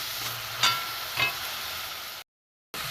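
Coconut filling for rice-flour pitha dries in a pan with a steady low sizzle and two brief scraping strokes of a stirring utensil, close, followed by a short drop to silence before the frying hiss returns.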